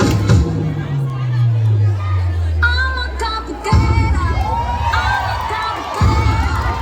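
A loud crowd shouting and cheering at a church sports festival, with children's voices in the mix and rising bursts of excitement over a low rumbling hum.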